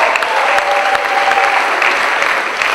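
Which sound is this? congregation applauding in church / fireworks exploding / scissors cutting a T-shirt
congregation applauding in church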